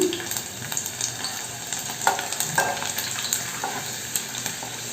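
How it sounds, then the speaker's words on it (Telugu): Dry red chillies and cumin sizzle in hot oil with browned garlic for tempering masala dal, a steady close frying hiss broken by occasional stirring clinks. "రెండు ఎండుమిర్చి వేసుకుందాం అలాగే జీలకర్ర"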